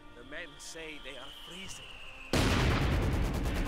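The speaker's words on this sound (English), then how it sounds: "Something is mortaring something. I think he is mortaring my mortar." Mortar fire in the World War II strategy game Company of Heroes 2, a sudden loud blast cutting in after someone talks, followed by sustained roaring noise.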